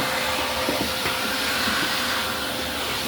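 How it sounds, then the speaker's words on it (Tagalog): A household vacuum cleaner with a worn-down brush runs steadily in a kitchen, giving a loud, even whoosh and hiss with a constant motor drone throughout. "Hindi gaano maingay nung ano na to, yung vacuum."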